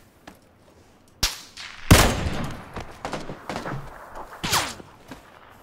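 Gunfire in a PUBG Battlegrounds squad match: several sharp, loud shots crack out at irregular intervals, with scattered echoing reports and fainter distant pops in between.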